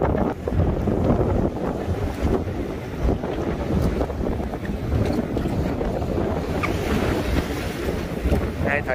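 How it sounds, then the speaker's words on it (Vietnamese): Strong wind and rough waves batter a fishing boat at sea, a constant loud roar of wind buffeting the microphone with sloshing water and creaking, rocking movement, with no voices. "Sóng gió dữ dội"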